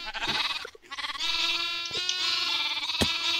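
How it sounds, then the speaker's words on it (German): A sheep in Minecraft bleats in a close, loud, wavering cry, then after a brief pause bleats again in a longer, sustained call, with a couple of small clicks in between. "Ein Schaf."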